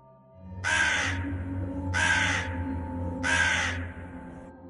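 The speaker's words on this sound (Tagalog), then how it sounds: "Napatingala kami lahat ang marinig ang tunog ng uwak na yon." A black crow in a forest gives three loud, harsh caws, evenly spaced about a second apart, each ringing out over a low steady background hum.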